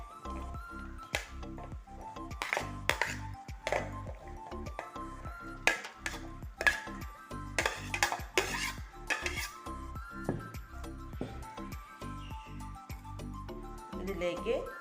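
Chopped onion, green chillies and crushed garlic scraped into a cooking pot for a breadfruit stew, a series of sharp clinks and taps of a utensil against the vessel, irregular and close, under a speaking voice.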